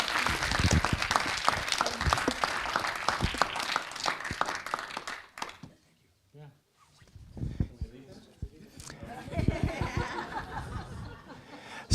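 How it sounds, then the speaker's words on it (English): An audience at a workshop roundup session breaks into clapping mixed with chuckles and scattered voices, dense for about five seconds before dropping away; a brief lull follows, then talking and light crowd noise return. "Can we have a big round of applause for these?"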